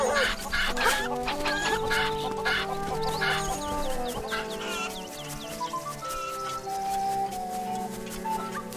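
Angry cuccos, the chickens of Zelda: Link's Awakening, cluck in agitated bursts over steady game music, loud and continuous throughout with no talking.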